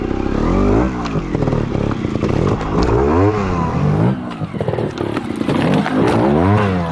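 A 2022 Sherco Factory 300 trials motorcycle climbs over obstacles on a solo trials ride, its engine revving in repeated sharp bursts and surges, loud and close, with no talking.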